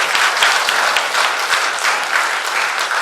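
A church congregation applauds after a special musical performance by a group of brothers during a Sunday worship service, steady clapping filling the room for about three seconds with no voices over it.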